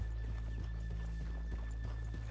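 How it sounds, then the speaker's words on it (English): Horses in Red Dead Redemption 2 clop along with a repeated rhythmic hoof beat over a constant low rumble, a game scene with steady ambient drone and no talk. "let's leave the horses here off the main drag"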